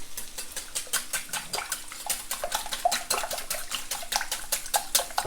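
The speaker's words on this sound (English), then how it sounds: "we're just gonna whisk these up a little bit" Eggs being whisked in a bowl for a breakfast scramble, a fast steady rhythm of wet clicking strokes, several per second, close and moderately loud with no talking.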